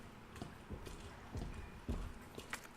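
Heavy enemy boots stomping in the Resident Evil 2 Remake video game, a few loud, separate footfalls landing at an uneven pace over a low ambient background.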